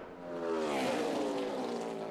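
NASCAR stock cars roar at the 2008 UAW-Dodge 400, a loud engine drone swelling as the cars charge into turn one, close and continuous with no talking.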